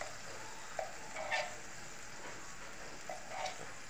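Chili and ginger frying in oil in a pan, a quiet steady sizzle with a few soft stirring scrapes, heard alone.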